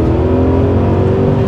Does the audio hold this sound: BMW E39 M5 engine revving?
yes